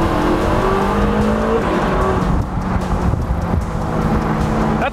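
Audi R8 sports car engine revving hard and loud nearby, a continuous roaring note that rises and holds through the whole stretch with no talk.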